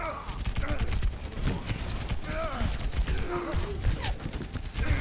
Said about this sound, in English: There's just soldiers shooting me.